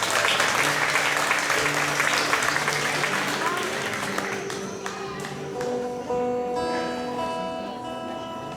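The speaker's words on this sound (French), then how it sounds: "On va applaudir Ophélie pour cette improvisation." An audience claps at a concert by a group after a solo improvisation, loud dense applause fading over several seconds while sustained musical tones linger and begin underneath.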